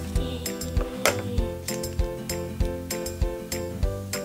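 Stirring DIY candy rice in a small tray, a steady rhythm of light clinks and taps from the utensil against the tray, repeated roughly every third of a second, close and moderately loud.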